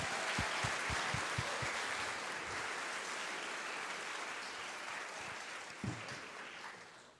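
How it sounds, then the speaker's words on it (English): An audience at a games conference panel gives sustained applause for a speaker, a broad wash of clapping that fades slowly after a few sharp low thumps at the start. "A round of applause, please."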